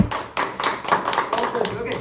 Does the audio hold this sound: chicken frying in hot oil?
no